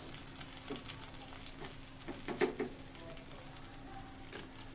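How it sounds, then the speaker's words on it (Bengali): Onions frying in a pan make a faint, steady sizzle with scattered crackles and a few soft stirring scrapes. "এখন পেঁয়াজগুলো খুব সুন্দর করে ভেজে নেব"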